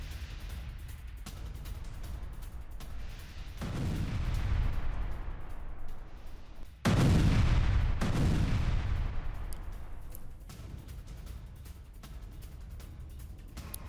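Israeli bombardment in Beit Lahia, northern Gaza, heard as distant heavy booms and rumbling blasts under a constant noisy background, with one loud, close explosion near the middle that rolls and fades.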